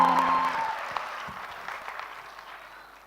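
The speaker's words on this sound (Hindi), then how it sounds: "तालियां तो जोरों से बजाइए सब," Audience applause at a Dev Anand quiz event in Jaipur, a burst of dense clapping that starts loud and gradually thins and fades over a few seconds, with no talking over it.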